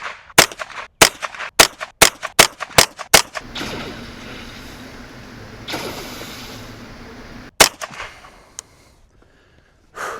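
A Ruger 10/22 rifle firing at a playing card from about 75 yards outdoors: a rapid series of sharp, loud cracks, then a pause with steady background rumble and one more isolated shot.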